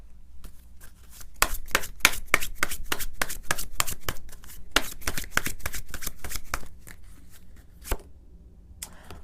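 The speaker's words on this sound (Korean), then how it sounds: "조언 카드도 제가 추가적으로 뽑아보도록 하겠습니다" Tarot cards being shuffled by hand during a reading, a quick run of crisp riffling flicks and slaps that come in bursts, close and moderately loud, with no talking.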